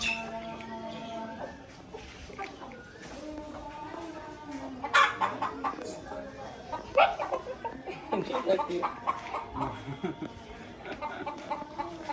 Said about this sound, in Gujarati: ઈ કુકડા